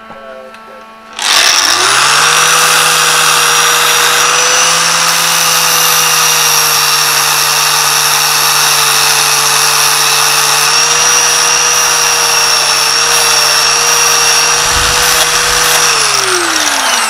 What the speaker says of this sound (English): We'll pull that one off and regrind it.